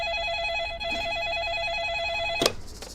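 A customer service telephone rings with a bright, warbling electronic trill for about two and a half seconds, then cuts off abruptly with a sharp click and some brief handling noise.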